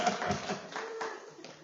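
A church congregation claps together in a few rhythmic, fairly soft bursts of hand claps, with a faint voice underneath.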